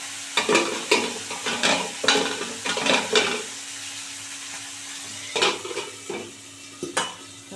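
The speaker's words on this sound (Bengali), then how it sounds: "দেখছো কেরম ফাটছে দেখো ওটাও কেরম হলো" Pangas catfish frying in hot oil sputters and pops loudly up close, with bursts of crackling spatter and utensil clinks in clusters, a quieter stretch, then more sharp pops.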